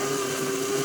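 An electric mixer grinds onions and tomatoes into a paste, giving a loud, steady, high whirring drone that runs the whole short moment and then cuts off abruptly.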